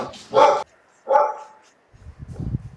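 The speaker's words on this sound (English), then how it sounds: "Doggy's going nuts." A dog gives two sharp, loud barks close by, spaced about half a second apart, followed by softer rustling and a brief whimpering noise.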